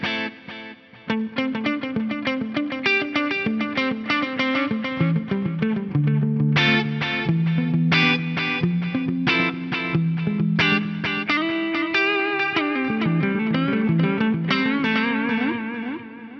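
An electric guitar plays a melodic line through a Fractal FM3, with delay repeats feeding into a reverb, giving a lush, trailing, ambient sound that carries on steadily without any talking.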